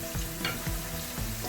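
Garlic, ginger, white pepper and chili fry with onions in a pan, sizzling steadily while a spoon stirs and scrapes through them in a few soft strokes.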